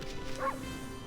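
A single short, bright bark from the wolf in the video game Okami, heard close and clear over a quiet hum of game background.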